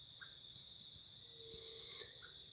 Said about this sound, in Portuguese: Só algum passarinhozinho gritando.